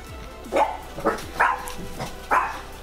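A dog in a house gives four short, evenly spaced barks at moderate loudness close by, with no talking.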